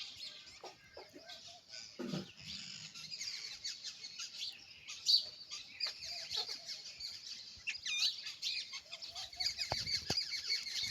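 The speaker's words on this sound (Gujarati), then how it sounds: "જો હમણાં પોપટે આવી બીજું જોઈ લે" Parrots squawk and chatter close by in harsh, repeated calls that overlap, rising into a busier flurry toward the end, with no talking.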